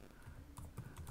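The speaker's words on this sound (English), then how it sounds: "I'm just typing something" Typing on a computer keyboard, a few soft, quick key clicks, faint and close against low background noise.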